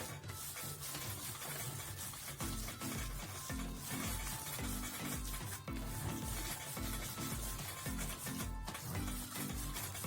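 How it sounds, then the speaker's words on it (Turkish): A table knocks and rubs in a steady rhythm as meatless Diyarbakır çiğköfte is kneaded by hand on a tray, with repeated low thumps and scraping throughout, faint and without talk. "Masamız ses yapıyor."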